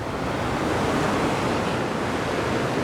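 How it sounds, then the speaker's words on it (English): Ocean surf rolls onto a tiny stretch of shoreline along the Jeju Olle Trail between Namwon and Pyoseon, a steady, loud wash of breaking waves with some wind noise and no talking. "It's just a tiny little bit of shoreline in the ocean."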